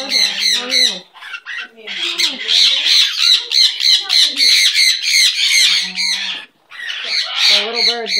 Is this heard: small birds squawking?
yes